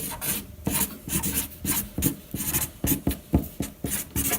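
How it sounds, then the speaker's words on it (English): A pen scratches repeatedly across paper while forming a letter S, giving a rhythmic series of close, dry rasping strokes with no talking. "Just wrote an S on the paper."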